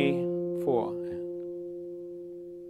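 A guitar sustains a long, steady note from a pentatonic blues melody while a voice briefly speaks over it and the note slowly fades.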